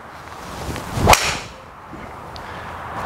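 A carbon and titanium 3 wood with a steel sole strikes a golf ball on a course, a single crisp, somewhat muted crack standing out against faint outdoor background noise.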